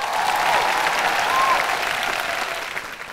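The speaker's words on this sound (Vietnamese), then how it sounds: "Một tràng pháo tay thật lớn cho nhóm Lửa Thiêng." An audience at a televised martial-arts music competition applauds a performing group, a loud, dense burst of clapping that holds steady and then slowly tapers off.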